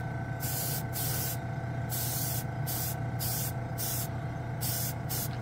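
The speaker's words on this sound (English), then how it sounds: "It's taking longer to go out because I'm spraying further out of the booth." An airbrush sprays Mr. Color GX paint near a spray booth, giving a close, steady hiss cut by short on-off bursts of stronger spraying.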